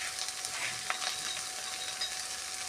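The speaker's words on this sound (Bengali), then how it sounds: "চালের গুঁড়ো দিয়ে শাকটা ভাজবো" Greens sizzle with rice flour in a pan as they fry, a faint, steady crackling hiss with small scattered pops and light stirring.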